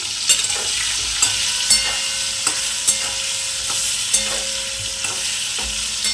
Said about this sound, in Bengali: পটলটা কিছুটা ভাজা হলে এটা করতে হবে। পটলটা আমার ভাজা হয়ে গেছে